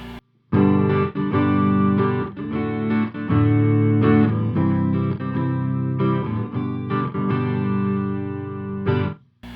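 An Ernie Ball Music Man Axis SuperSport electric guitar on its neck humbucker pickup plays a strummed passage of sustained chords with brief gaps between them, loud and close with no talking.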